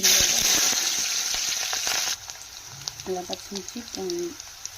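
Green chillies and onion sizzle loudly in hot oil in a pan for a couple of seconds, then the frying fades to a quieter background as someone speaks over it.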